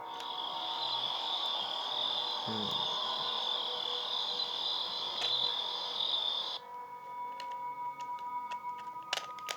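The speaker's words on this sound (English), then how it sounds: "catches nothing but crickets chirping under a night sky" Steady high insect chirring, like crickets at night, continues throughout, dropping slightly in tone and level near the end, with a few faint ticks.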